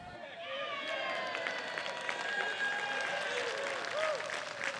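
A crowd at a disc golf tournament applauds and cheers, a dense sustained burst of clapping with scattered shouts, heard from a moderate distance.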